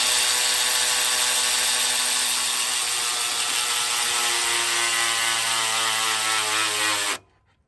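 A tool runs fast and continuously while the alternator belt of a Mazda RX-8 is tightened, a loud close mechanical whir that cuts off abruptly near the end, with no talking.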